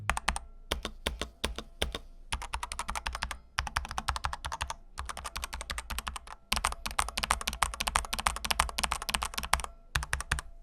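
Rapid, clacky typing on a Bloody S98 mechanical keyboard in bursts with short pauses between them, close and crisp.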